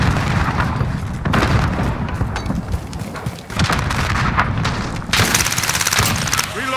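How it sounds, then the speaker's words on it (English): Grenade blast and rapid gunfire from a Modern Warfare multiplayer match, a dense, loud barrage of shots and booms filling the whole stretch, with a sharper burst of firing near the end. "Throwing grenade!"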